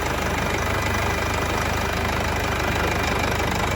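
A Mercedes C250 engine idles steadily, loud and close, with a constant dense mechanical rumble and fine ticking throughout, after a coolant leak repair.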